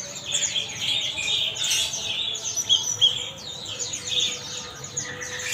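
Several konin hijauan birds, a green-plumaged species kept in stock at a bird dealer's shop, chirp in quick, high tweets and trills that overlap in busy bursts, close by and fairly loud.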